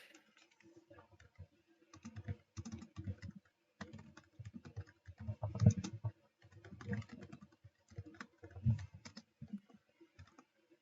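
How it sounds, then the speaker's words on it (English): Computer keyboard typing during a Pokémon tournament broadcast: faint, irregular bursts of clicky keystrokes in quick clusters, fairly close but quiet, with no talking. "Oh, Cristo's typing."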